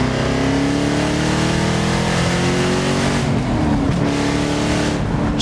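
A 1975 Alfa Romeo Montreal's engine revs hard toward about 7000 rpm, a loud rising howl that drops sharply at the upshift, then climbs again, close and alone.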